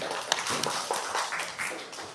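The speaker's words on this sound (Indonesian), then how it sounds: "berikan tepuk tangan kepada kelompok 1 yang telah berani tampil ke depan" A classroom group applauds a performance, brief scattered clapping over low background murmur, lasting about two seconds.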